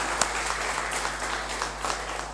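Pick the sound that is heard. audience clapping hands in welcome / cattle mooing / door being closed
audience clapping hands in welcome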